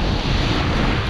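Strong wind at a seashore where a trammel net is set near the shore buffets the microphone in a loud, steady roar, mixed with surf, with no voices.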